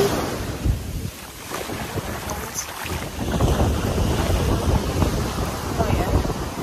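Sea waves rolling onto the shore at Miami Beach, Barbados, heard as a broad, steady wash of surf under gusting wind buffeting the microphone, with a brief lull before the roar swells again.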